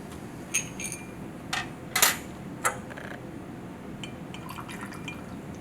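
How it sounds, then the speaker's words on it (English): Glassware clinks and small tapping hits as a calcium carbonate solution is stirred in the lab, a few short sharp knocks spaced over a quiet background hiss. "I'll take a minute and also just stir my solution along"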